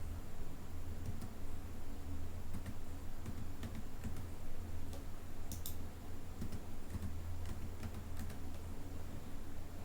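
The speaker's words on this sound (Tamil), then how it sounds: "ஏதாவது ஒரு பாஸ்வேர்டை வந்து டைப் பண்ணுங்கள்" A password is typed on a computer keyboard, scattered light key clicks arriving in uneven bursts over a steady low electrical hum.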